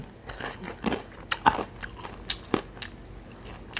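Crispy battered fried chicken wings are bitten into several times, each bite giving a sharp, close crunch, with softer chewing between the bites.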